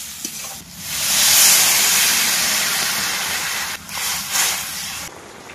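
Fried soybeans hit a hot pan of potato curry with a loud, steady sizzle and hiss that holds for several seconds, then eases off with a few stirring scrapes.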